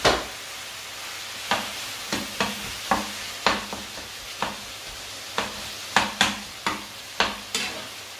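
Onions and tomatoes fry in a pan with a steady sizzle, while a spatula strikes and scrapes the pan in a regular rhythm about every half second, close and fairly loud, no talking.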